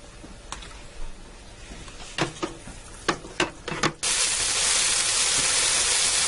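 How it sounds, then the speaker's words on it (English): Beef cubes seasoned with salt and pepper browning in hot oil in an Elite Infinity cooker: a few sharp clicks and clatters, then a loud, steady sizzle erupts and holds to the end. "put that in my grease here, in my oil, and brown my"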